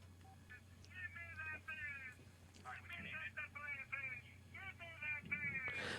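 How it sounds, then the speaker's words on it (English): A phone ringtone plays in a radio studio, a warbling electronic melody of repeated chirping phrases with brief gaps, fairly faint over a steady low hum. "Yeah, it's my ringtone."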